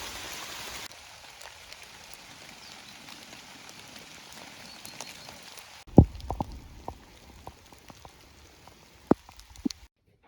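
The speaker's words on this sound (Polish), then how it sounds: "Leje, jakby ktoś z wiadra lał." Heavy rain pouring down in a forest during mushroom picking, a faint continuous patter with scattered louder drops splashing nearby, quieter midway and then sharper individual hits.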